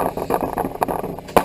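Close, harsh back-and-forth scraping of a stiff steel wire brush against the metal of a golf cart, in quick irregular strokes.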